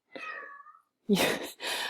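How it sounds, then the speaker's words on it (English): A house cat meows indoors, with a drawn-out wavering cry followed by two louder, harsher meows after a brief pause, close and clear. "please excuse the cat"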